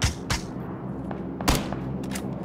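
Gunshots in PlayerUnknown's Battlegrounds, a few sharp cracks spaced irregularly over a steady game background, one heavier report near the middle and lighter distant pops after it.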